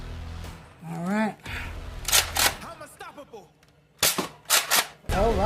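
A toy foam blaster with a scar barrel fires half-length darts at a dart catcher, giving several sharp, close snapping shots separated by pauses, with someone talking between and around them.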